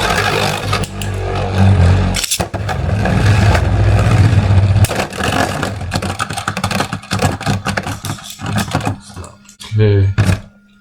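3D printed Beyblades spin and clash in a battle arena, giving loud continuous whirring and scraping with sharp clattering impacts, while people talk over the action.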